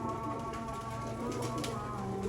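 Soft, low cooing of Mian Nazir bloodline dabb pigeons on a rooftop loft, faint and somewhat distant, repeating in a steady murmuring rhythm against a constant background hum.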